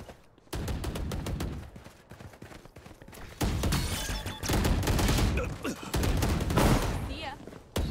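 Rapid, loud gunfire in a ranked Valorant match, near and sustained in dense bursts, with players' voices talking over the shooting.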